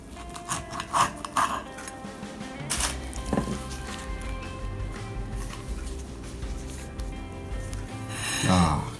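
A knife slicing through toasted chilli con carne burritos, several scraping, crunching cuts and clinks against a plate at close range, spread across the clip with someone talking in between.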